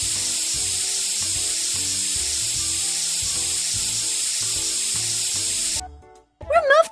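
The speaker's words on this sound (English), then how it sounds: "Remove it with a medical spray." A steady, hissing medical spray in the Hippo Hospital game, used on a fungus-infected eye. It sounds like a continuous sizzling spray under light game music and cuts off near the end.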